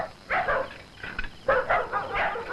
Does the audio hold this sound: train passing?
no